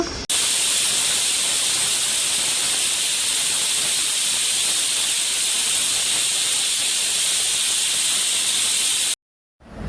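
A pressure cooker cooking mutton biriyani vents steam in one continuous, loud hiss that holds steady for about nine seconds and then cuts off abruptly.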